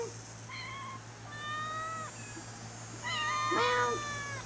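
A cat meows repeatedly, several drawn-out, rising and falling cries close by, with short quiet gaps between them.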